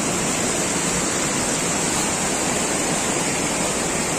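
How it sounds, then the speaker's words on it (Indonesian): A fairly large river rushes at a jungle crossing, a loud, steady, unbroken roar of flowing water filling the whole moment with no voices. "Ini sungainya cukup besar."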